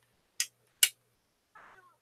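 A pet cat gives two short, sharp meows in quick succession, then a softer, drawn-out mewing call a moment later, all close and fairly quiet with no talking.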